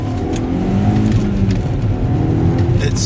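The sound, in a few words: Audi S3 car engine driving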